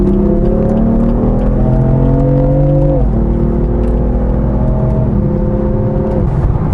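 A BMW M4 with roughly 425 horsepower revs hard as it accelerates, its engine note climbing steadily through gear after gear, with shift drops near three and five seconds, loud and close from inside the car.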